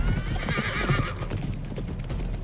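Horses in an anime battle scene, hooves clattering in a steady gallop under a loud whinny, dense and close with a low rumbling backdrop.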